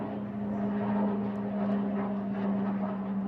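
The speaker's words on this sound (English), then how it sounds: "Secretive Pilatus PC-12 departing" A Pilatus PC-12 single-engine turboprop departs Manchester Airport, producing a steady droning hum with a strong, even propeller tone, fairly close and constant throughout.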